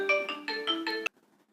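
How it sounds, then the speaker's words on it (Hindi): A phone rings with an incoming call from home: a repeating melodic ringtone in short bright notes, close and clear, cutting off abruptly after about a second, followed by near silence. "घर से फोन आ गई थी"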